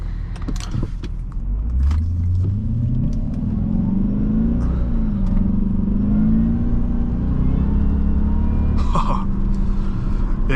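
A 2003 Jaguar S-Type R in sport mode accelerates on a slick road, its engine note climbing in a loud, steady rumble that rises and falls through several pitch sweeps, heard close from inside the cabin.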